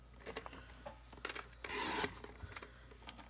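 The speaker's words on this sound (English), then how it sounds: "I'm going to cut it at 1/2 inch." Craft material being cut lengthwise into half-inch strips for a Christmas craft, giving quiet, close rasping and rubbing strokes, with one longer, louder scraping pass in the middle and scattered small scrapes around it.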